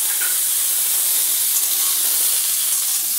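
Drumstick pieces dropped into hot oil over a tempering of seed spices and a dried red chilli, for drumstick pickle, giving a loud, steady, close hiss of frying that holds evenly throughout without speech.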